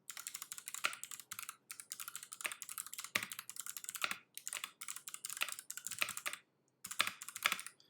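Typing on a Keyboard 75 mechanical keyboard with Box Navy switches, bursts of loud, crisp rapid clicks broken by short pauses, close up with no speech.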